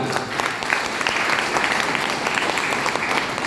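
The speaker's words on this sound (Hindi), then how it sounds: "एक बार इनके लिए जोरदार ताली" A seminar audience gives a steady round of clapping, dense and even at moderate volume from start to finish.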